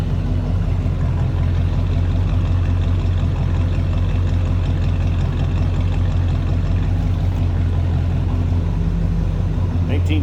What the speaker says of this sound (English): Let's take another little listen back behind that low idle